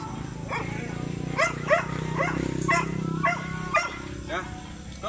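A male and a female Doberman barking in short repeated bursts over a steady low background hum, with several barks spaced irregularly across the stretch at moderate distance.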